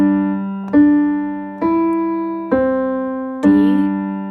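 Piano plays a slow lesson phrase with G in the left hand and D in the right, four evenly spaced struck notes that ring and decay, each attack clear and close with no talking.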